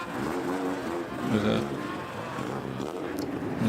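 A 4-door Datsun 140J with a big fat exhaust rumbles and revs past at a New Year car parade in Japan, loud and close amid crowd noise, while someone talks over it.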